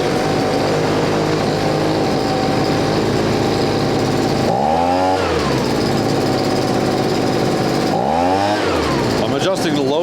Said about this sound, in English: I'm adjusting the low speed so it doesn't bog when you hit the throttle.